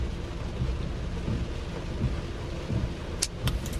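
Steady rain pours down with low thunder rumbles rolling through at intervals, and a few sharp, brief clicks near the end, no voices present.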